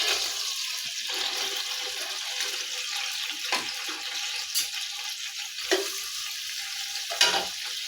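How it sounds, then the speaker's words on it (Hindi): An onion frying in about a cup of oil in a pan makes a continuous bright sizzle, with a few louder spits and bursts breaking out over the hiss. Nobody speaks. "अब मैं इसमें शामिल कर रही हूँ 1 प्याज। इसको फ्राई करके हम निकाल लेंगे।"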